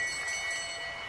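A lap bell rings at a cycling race final, a bright sustained metallic tone over a steady crowd and outdoor wash. It stays fairly constant for the whole short moment.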